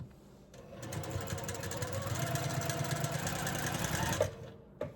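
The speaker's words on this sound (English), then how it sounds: "now you're just going to sew down this side." A sewing machine runs steadily for several seconds, stitching down the side of a star quilt block, its rapid mechanical chatter close and even before stopping abruptly.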